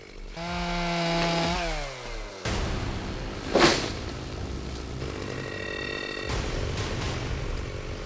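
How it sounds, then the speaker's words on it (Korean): A chainsaw felling trees on a steep mountain slope revs and whines loudly, its pitch climbing and dropping, with a sharp crack partway through and steady saw drone continuing afterward. "산중엔 전기톱 소리만 요란하게 울려 퍼지는데요."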